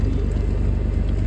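A Foden British-built recovery truck with a Rolls Royce engine runs steadily nearby, giving a continuous deep rumble with no talk over it.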